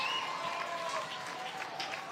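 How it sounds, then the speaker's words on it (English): Spectators at a high school football game stand and cheer on a third down, a steady wash of distant crowd noise and clapping with a faint announcer-like voice over it. "People standing up and cheering on third down and 16"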